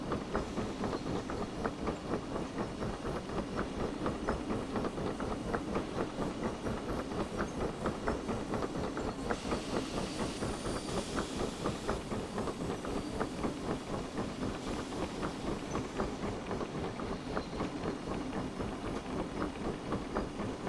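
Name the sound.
steam train running in Derail Valley video game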